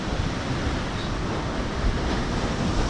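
Pacific Ocean surf at a fishing port on the Taiwan coast, a continuous broad wash of waves with wind noise, steady and fairly loud throughout.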